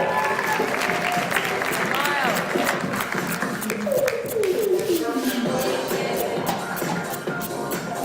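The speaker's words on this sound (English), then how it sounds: "Round of applause for Kevin, everyone." Applause from a studio audience at a talk show taping, fairly steady and moderately loud, with voices speaking and calling over it throughout.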